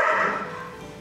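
A single short bark from a dog indoors, a brief clear yip that fades quickly, fairly near and alone.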